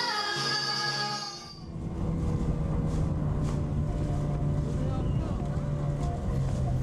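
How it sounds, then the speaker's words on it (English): A small dinghy motors across open water at night, a steady droning engine and rushing wind-buffeted water noise that fills the clip after a brief tonal passage at the start. "on the dinghy ride home"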